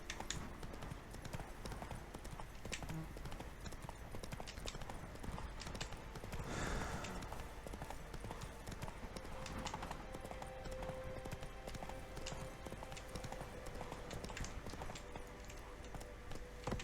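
Hooves of the horse Roach clip-clop steadily at a gallop in The Witcher 3: Wild Hunt, an unbroken rhythmic patter over quiet ambience that lasts throughout.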